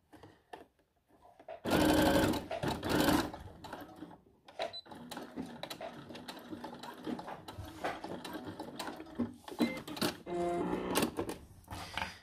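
Sewing machine stitching a straight seam on a bra with cups and underwires, bursts of rapid mechanical clatter starting and stopping several times, loud and close, with brief pauses between runs.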